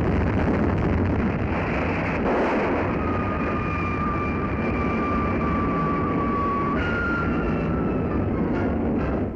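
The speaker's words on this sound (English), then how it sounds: "After a perfect launching, the Titan thunders downrange." Titan I intercontinental ballistic missile at launch, a continuous loud broadband roar that holds steady throughout with a faint whining tone running through it, no talking.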